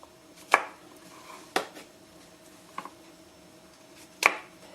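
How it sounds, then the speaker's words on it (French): An office knife cuts mushrooms into halves or quarters on a cutting board, giving four crisp, separate knocks spaced about a second apart, close and clear against a quiet background. "un couteau d'office pour couper mes champignons en"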